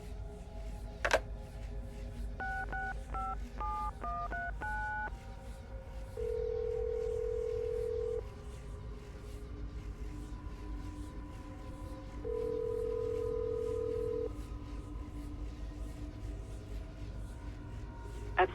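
A telephone being dialed in the Assassin's Creed Brotherhood video game: a quick run of touch-tone beeps followed by two long steady ringback tones, faint over a low background hum.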